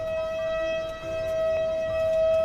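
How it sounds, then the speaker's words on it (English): Tornado sirens wail steadily during a severe storm, a sustained tone from a distance against a faint background rumble. "listen to those tornado sirens"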